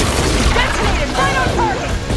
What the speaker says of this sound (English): Detonated right on target